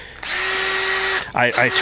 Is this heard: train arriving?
no